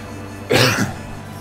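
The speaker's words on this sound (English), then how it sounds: "I think you caught the cough" A single short, harsh cough close to the mic over a steady background hum.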